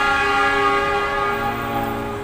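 A Whoosh high-speed train at Padalarang, West Bandung, sounds a loud, sustained horn with a steady tonal blare that holds for over two seconds, with no speech.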